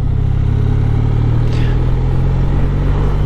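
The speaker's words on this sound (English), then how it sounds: "the other option I've got is to match the rev change and then throttle off" A motorcycle engine blips to match revs on a downshift and then the throttle is rolled off, a loud close mid-range drone holding steady with a short rising whine partway through.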